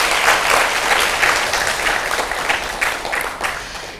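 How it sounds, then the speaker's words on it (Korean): A lecture audience at a Kyungpook National University science talk gives the professor close, lively applause that swells early and then slowly tapers with scattered sharper claps. "오늘 강연이랑 질의응답 해주신 우리 교수님께 다시 한번 큰 박수 부탁드리겠습니다."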